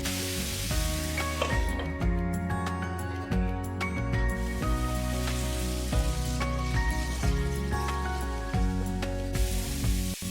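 Broccoli and paneer stir-fry cooking in a pan on low heat, a steady close sizzle with dense crackling spatter running throughout, like light rain on a surface, with no talking.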